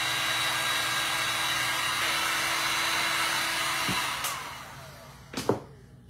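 Hair dryer blowing on paint applied to glass, a loud steady whirring rush for about four seconds before it winds down and clicks off, followed by a few handling knocks.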